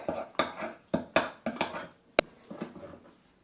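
Spices such as nutmeg are mixed in a bowl for jerk chicken, a series of close clinks and scrapes of a utensil against the dish, uneven and fairly quiet, with one sharp knock near the end.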